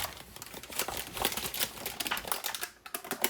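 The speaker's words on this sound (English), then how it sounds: "now I'm going to cut it into squares, and CJ is going to taste it for it." A knife cuts a tray of keto chocolate peanut butter fudge into squares on parchment, making close, dense, rapid crackling and crinkling clicks that run steadily throughout with no talking.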